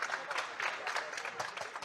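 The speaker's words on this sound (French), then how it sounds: "vous pouvez vous applaudir bien fort" An Amazon warehouse team applauds itself in a short, steady burst of clapping from a crowd of workers, fairly close and even throughout.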